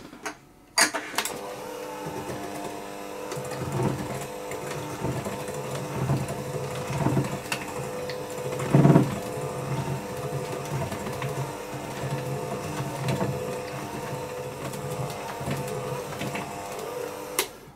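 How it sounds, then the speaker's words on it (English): Butter, egg and sugar being mixed for cookie dough, a steady mechanical whir that runs throughout with a brief louder bump partway through. No one speaks. "I'm going to mix those until they begin to come together."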